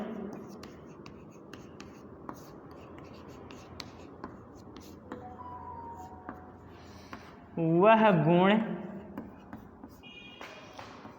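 Chalk or marker strokes scratch steadily across a board during a physics lecture on the laws of motion, faint and intermittent, with a brief burst of louder voice partway through.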